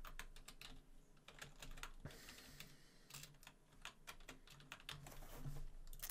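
Rapid typing on a computer keyboard, a quiet irregular stream of close clicking keystrokes with brief pauses, no voices.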